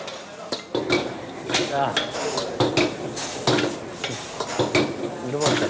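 Noodles being stirred and tossed in a pan for a Chinese-style dish, with repeated metallic clanks and scrapes of a utensil against the pan in an uneven rhythm, close and fairly loud, over a faint sizzle.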